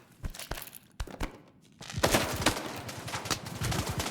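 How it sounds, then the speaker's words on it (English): Video game gunfire: a few sharp isolated shots at first, then a dense rattle of rapid automatic fire with overlapping bangs continuing to the end, with no talking. "I love that gunfire that we're hearing right now."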